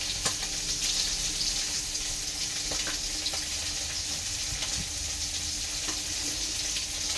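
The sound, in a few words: pabda fish frying in a pan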